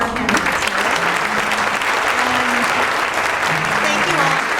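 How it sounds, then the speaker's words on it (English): A forum audience gives U.S. Senate candidates a full round of loud, steady applause, with faint voices mixed in underneath. "How about one more round of applause for our candidates?"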